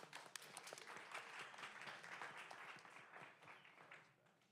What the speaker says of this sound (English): Please give a round of applause for our next startup